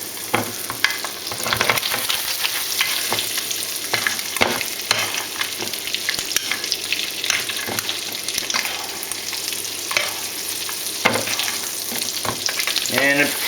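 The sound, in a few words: wild barramundi frying in oil with herbs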